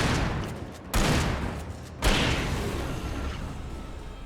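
Two loud gunshots ring out in the video game Alan Wake, about a second apart, each a sharp blast trailing into a noisy wash that lingers under the rest of the clip.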